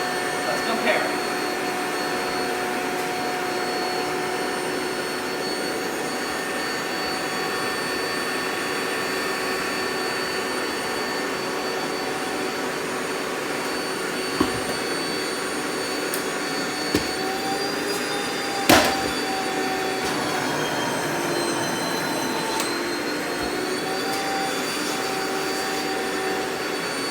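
Rainbow SRX and E2 vacuum cleaners run together as a steady, loud, jet-like whine and rushing airflow, with a few brief clicks and thumps partway through and small pitch shifts near the end.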